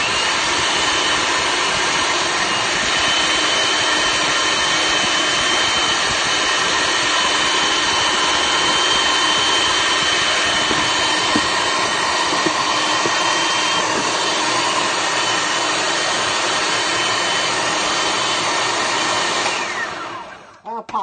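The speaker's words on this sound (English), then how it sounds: "it says to do it in a food processor, so that's what I'm doing" Food processor running continuously while mixing raw peanut butter ball dough, a loud, steady high-pitched motor whir held for about twenty seconds before winding down at the end.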